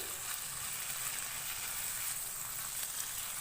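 Chicken frying with garlic and ginger gives a quiet, even sizzle that holds steady throughout, with no other sounds over it.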